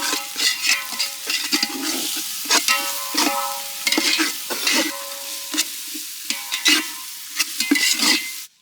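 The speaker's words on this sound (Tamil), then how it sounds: "இஞ்சி பூண்டு பேஸ்ட் அரைச்சி கொண்டு வந்திருக்கோம்," Ginger garlic paste fries with curry leaves in a pan for a village-style Kerala chicken curry. A constant sizzle is broken by repeated scraping strokes of a spoon against the pan.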